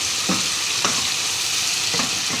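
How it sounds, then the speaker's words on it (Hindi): Tomato and green chili masala sizzles steadily in a pan for chana dal, with a few soft scrapes of a spoon stirring through it; a continuous close frying hiss with no talking. "टमाटर नरम हो गए और मसाला भी अच्छी तरह भून गया"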